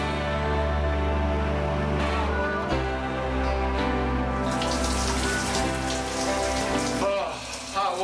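Steady hot shower water pouring and spattering, a continuous dense rush mixed with music in the background.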